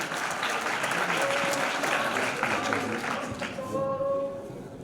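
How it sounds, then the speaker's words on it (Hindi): Loud, sustained applause from a seated audience at a Dhakad community talent-honouring ceremony in Jhalawar, a dense wash of many hands clapping that fades near the end as a tone or voice emerges. "जोरदार तालियां इस बात के लिए"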